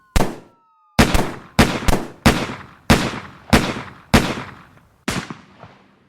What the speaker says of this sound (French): Premiers échanges de coups de feu entre les policiers et les 2 adolescents